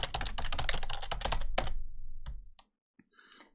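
Fast, close typing on a computer keyboard as a password is entered, a dense run of clicky keystrokes for about two and a half seconds, then a single late tap and faint background after, with no talk.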